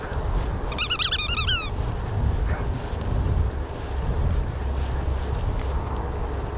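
A squeaky rubber duck toy gives a quick run of high, whistling squeaks lasting about a second, heard over constant loud wind rumble outdoors.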